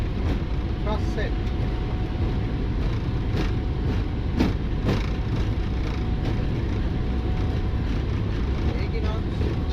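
Jet engines of a Boeing 777-300ER spooling up to takeoff thrust on departure from Dhaka, a steady loud roar heard from inside the cockpit, with brief crew callouts over it.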